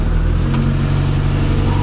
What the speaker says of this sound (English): Ignition and start.